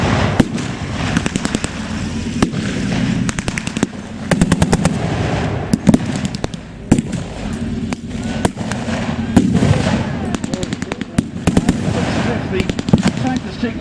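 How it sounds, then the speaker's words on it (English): A heavy, large-caliber top-mounted machine gun rattles off repeated bursts during a WW2 battle reenactment at Fortress Wales, loud and close, mixed with other gunfire and blasts while someone talks over the din. "Top-mounted machine gun, this heavy machine gun, is going to cause havoc."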